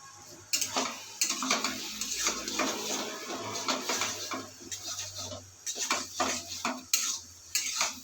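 Jute greens are stirred in hot oil with garlic and dry chili, close metal scraping and clattering of a spatula against the pan in repeated bursts over a faint sizzle.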